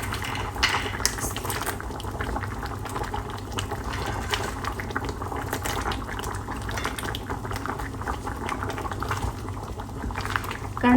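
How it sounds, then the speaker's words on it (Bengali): Lentil dal with bottle gourd bubbles at a steady rolling boil in a pot, a continuous close, dense gurgling and popping with no talking. "ডালটা যখন এরকম উতলায় আসবে"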